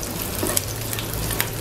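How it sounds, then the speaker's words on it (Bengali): Sliced onions and green chillies fry in a pan with a steady, moderately loud sizzle and a few light clicks of stirring, no voices. "পেঁয়াজটা 1 মিনিট ভেজে আমি কাঁচামরিচ ফালিগুলো দিয়ে দিচ্ছি।"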